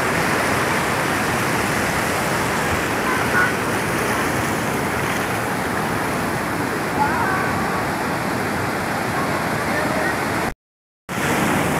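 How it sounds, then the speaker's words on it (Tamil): Steady, loud rushing wash of surf on Varca Beach, a white sand beach in South Goa, fills the whole clip, a continuous roar of breaking waves with brief faint swells and a momentary dropout. "எத்தனை கரண்ட்ஸ் வருது பாருங்க, வேவ் கரண்ட்ஸ் கிட்டத்தட்ட 4-5 ஃபார்ம் ஆகுதுங்க."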